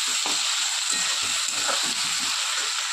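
Ginger garlic paste sizzles and fries steadily in a hot pan for a Bengali cabbage and rohu fish head ghonto, a close, continuous hiss with faint stirring scrapes.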